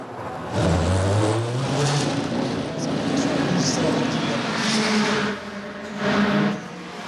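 An Audi race car rolling into the pits at the 2006 Le Mans race, its engine droning and rising in pitch under a commentator's steady talk, with crowd and track noise behind.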